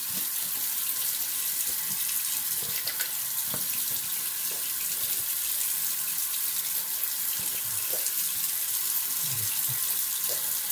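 Tap water runs steadily into a sink while a razor is rinsed between shaving passes, a constant close hiss with small splashes and clinks breaking through.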